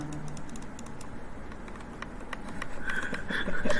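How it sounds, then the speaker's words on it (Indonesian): Fast clicking keystrokes on a computer keyboard while configuring a network interface, close and steady taps with a brief rise in noise near the end, no speech. "saya akan mengetik enter, mengklik enter."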